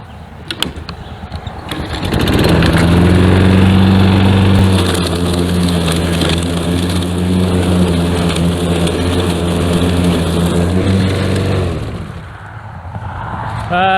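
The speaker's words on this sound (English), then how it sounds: "let's see what a little mowing will do up in here now" A lawn mower cutting long, overgrown grass left unmowed for 20 years at a subdivision entrance, its loud steady engine drone rising after a couple of seconds, holding for about ten seconds, then dropping away.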